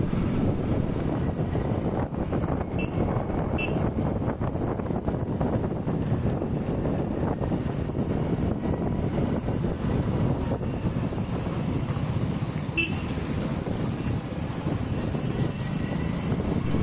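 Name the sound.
water released from a dam flowing downhill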